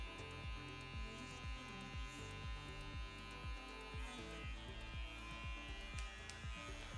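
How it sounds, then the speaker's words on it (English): An electric barber trimmer cleans up a hairline on a scalp, its steady close buzz broken by quick rhythmic strokes repeating about twice a second. "I'm gonna start to clear up this line left from the trimmer."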